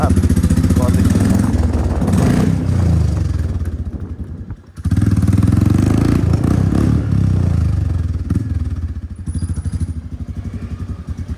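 A Royal Enfield Bullet fitted with an Akrapovič exhaust gives a loud, close, thumping engine note that revs hard, cuts out briefly, then returns. The idle stays choppy and pulsing, with some clatter around it.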